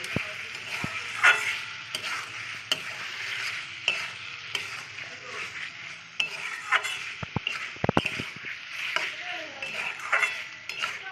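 Meat is stirred in a cooking pan for a home-style meat curry, with repeated scraping utensil strokes over a low sizzle and some sharp clinks against the pan.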